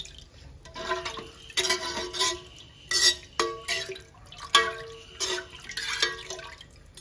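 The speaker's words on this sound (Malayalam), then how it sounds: "അതിന് 2 കപ്പ് വെള്ളം ആഡ് ചെയ്യുന്നുണ്ട്" Two cups of water are poured into a pot for ghee rice, heard as uneven splashing bursts and pours in several separate spurts, fairly close.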